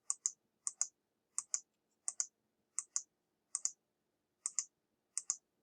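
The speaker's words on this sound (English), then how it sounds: "I'm going to click on it and I'm going to enlarge." Quick paired computer mouse clicks repeat about a dozen times in sharp, faint double-tap bursts at a steady pace in an otherwise quiet room.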